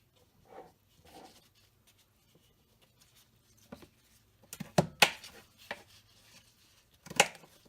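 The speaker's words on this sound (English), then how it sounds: "Some of these bigger slices, I'm going to make them just some smaller pieces." Knife cutting pickled beet slices into smaller pieces on a board: a few soft taps early, then a cluster of sharp chops and a final cut, close and otherwise quiet.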